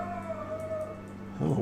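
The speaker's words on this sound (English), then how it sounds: "I want to apologize for the dog barking." A dog indoors lets out a sustained, high-pitched howl, steady and fairly loud, ending in a burst of rougher noise.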